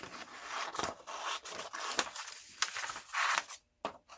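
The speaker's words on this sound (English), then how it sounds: "So I'm going to take a scissors" Continuous snipping and rustling as scissors trim a paper sewing pattern, with rapid scraping cuts and a brief pause near the end.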